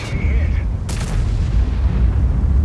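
A single heavy boom from the FV4005 tank gun in World of Tanks, a sharp blast followed by a short rumbling tail, heard after a brief tonal game cue.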